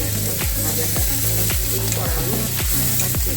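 Onions frying with bay leaves in a pan for a home-style pointed gourd and shrimp curry give a steady, close sizzle that runs throughout, with soft music playing underneath.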